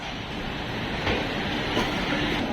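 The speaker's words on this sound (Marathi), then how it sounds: "ट्रेननं एकदम राईट टाईमला सध्या ट्रेन निघालेली आहे" A Pune to Tirupati passenger train pulling out on time, with a steady broadband rumble of rolling carriages and a couple of faint jolts, heard from inside the train.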